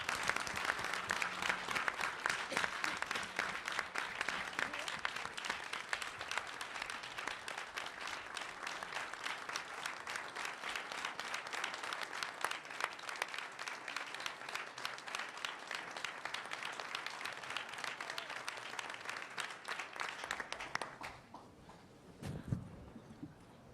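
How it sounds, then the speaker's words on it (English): A board meeting audience applauds steadily for about twenty seconds, a dense and sustained clapping that fills the room before tapering off abruptly near the end. "All in favor, applaud."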